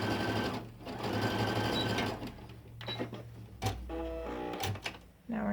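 A sewing machine stitches a seam allowance between marked lines on a women's raglan thumb-hole cuff. It runs in steady bursts that stop and start several times, close and alone, with no talk.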